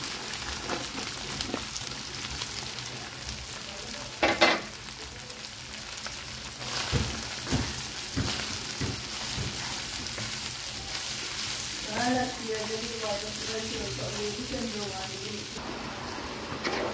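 Bean sprouts sizzle and crackle in a hot pan while being stir-fried for vegetable lumpia, with steady frying hiss, occasional clinks and scrapes of stirring, and a voice speaking briefly partway through.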